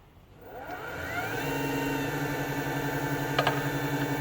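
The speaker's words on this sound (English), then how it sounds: "I'm going to turn the lathe on." Wood lathe turning a flame box elder pen blank on a mandrel: the motor spins up from quiet to a steady humming whir with layered tones, staying constant with a couple of brief clicks near the end, close and alone.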